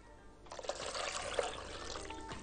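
Pickling brine of lemon juice, water, salt and coriander poured over green olives, a steady close trickling splash of liquid into a container after a brief quiet start.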